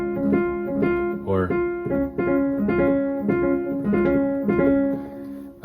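Piano with a right-hand triplet figure played unevenly, so the repeated notes lurch in a lopsided gallop over sustained lower notes; a brief sung or spoken sound cuts in near the start.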